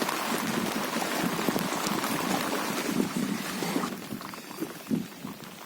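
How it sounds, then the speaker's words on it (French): Light rain patters steadily on surfaces nearby, a constant soft hiss of droplets with no voices, easing slightly toward the end. "Et en plus, il commence à pleuvoir là."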